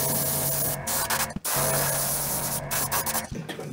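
Fluorescent yellow spray paint hisses steadily as a base coat is applied to a white-background piece, with a brief pause and a short second break near the end, close and loud.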